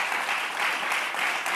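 A studio audience at a television show hosted by Carlo Conti applauds steadily and densely, the clapping close and sustained without a break.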